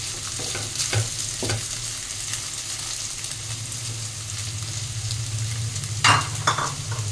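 Noodles stir-fried in a wok on a gas flame being turned up, with a constant close sizzle and occasional spatula scrapes and clanks against the metal, louder near the end.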